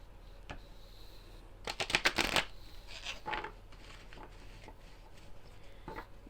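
A deck of tarot cards bought in Ireland riffled and shuffled by hand, close and fairly quiet, with a brisk cluster of crisp card flutters in the middle and a few isolated taps before and after.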